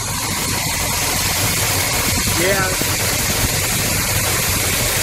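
A 1971 Plymouth Road Runner in Bahama Yellow with a 340 V8 idles steadily and close by, a constant rumble, while a person briefly says a word over it.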